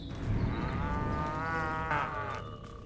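Cows moo in the Destroy All Humans! Remake video game, a loud, drawn-out lowing call that swells and shifts in pitch over about three seconds with no talk over it.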